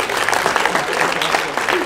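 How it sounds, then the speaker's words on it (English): Lively applause fills the room at a high school sports banquet as the audience claps for an athlete, with a few voices mixed into the crowd noise. "So Garrett deserves a round of applause for"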